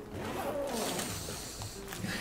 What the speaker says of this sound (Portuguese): Ó, Guima, puxa o zíper